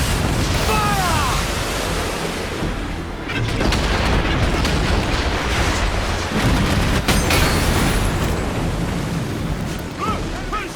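Ship cannons booming during a naval battle in Assassin's Creed Black Flag, heavy low blasts rolling over constant wind and sea noise, with shouting voices in the mix.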